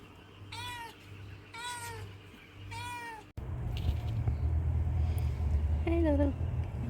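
A kitten gives three short, clear meows close by, then a longer meow over a louder, rumbling background.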